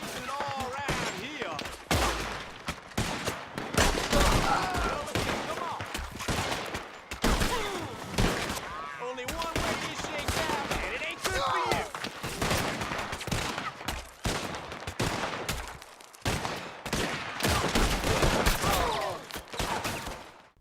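Rapid volleys of gunfire in Red Dead Redemption 2, loud bursts and single shots crowding together over about twenty seconds with barely a pause.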